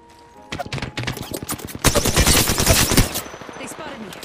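Automatic weapon fire in the Apex Legends battle royale game, made of rapid close bursts that build into a dense sustained volley before stopping abruptly.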